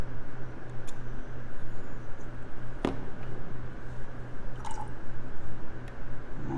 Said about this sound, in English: I am going to wash it with the water 2 or 3 times